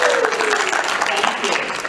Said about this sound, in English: You always have to clap, Camp Quest people